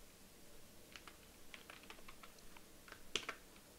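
Quiet keystrokes on a computer keyboard, typed in short irregular bursts with a sharper tap near the end, no voices.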